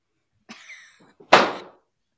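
A voice imitates a door: a short creaking vocal sound, then a sharp, loud burst mimicking an angry slam, close up and alone.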